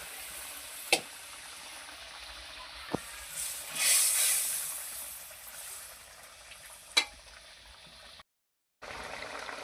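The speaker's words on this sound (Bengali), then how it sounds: "এবার মাছগুলো দিয়ে দিলাম ঝোলের মধ্যে" Fish pieces simmer in a curry broth in a pan, giving a soft steady bubbling hiss with a brief louder sizzle burst midway and a few sharp clinks of utensils.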